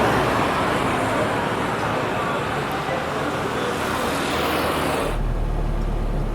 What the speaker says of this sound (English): It is 8 o'clock in the evening and we are stuck in traffic in Hua Hin.